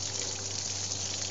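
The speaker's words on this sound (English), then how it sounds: "This pump could keep on going just about forever." An off-grid water pump moves water with a steady, hissing rush and a low hum, continuous and fairly faint throughout.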